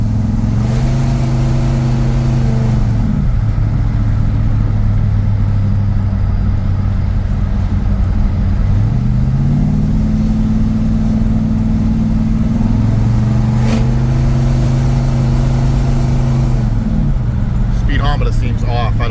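Ford Thunderbird fitted with a 460 V8 engine pulls through its three gears, the engine note rising steadily with each gear and dropping at every shift, loud and close throughout from inside the car.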